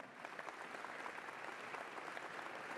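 Audience in a sports hall applauding, a dense, steady wash of many hands clapping at moderate distance, fairly faint, with no voices standing out.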